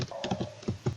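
Quick keystrokes on a PC keyboard while entering a web address into a browser search bar, several distinct clicks spread over one second, close and fairly soft.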